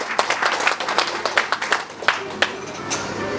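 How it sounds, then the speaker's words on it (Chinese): At a Pak Mei kung fu launch event, a crowd breaks into applause after a demonstration. Scattered claps build into a steady patter of hands that rises and falls for several seconds, with some faint voices mixed in. "我俾啲鼓掌"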